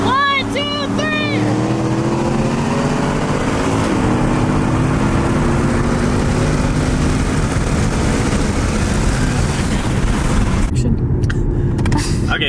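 Loud, steady engine roar fills the whole stretch as a 2018 Mustang GT and a Camaro ZL1 accelerate side by side in a roll race, with a brief voice at the start and wind buffeting near the end.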